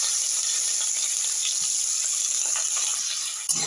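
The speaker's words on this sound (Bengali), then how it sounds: "আমি এই পেঁয়াজের টুকরোগুলো আমি তেলের মধ্যে দিয়ে দেবো।" Onion pieces dropped into hot oil in a pan with bay leaves, giving a steady bright sizzle and hiss that stays even throughout, ending with a small clink.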